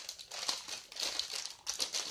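Crinkly plastic bag of Panda brand chips being handled and opened, close and loud, with bursts of crumpling and tearing rustle in uneven spurts and no talk.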